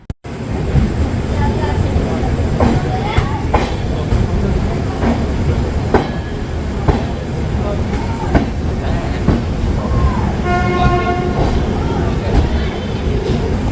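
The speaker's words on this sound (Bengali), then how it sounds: "আমাদের ট্রেন ঢুকলো।" A passenger train pulling into a station at night, a heavy continuous rumble with rhythmic wheel clacks and knocks, a brief tonal horn or squeal near the end, and people talking nearby.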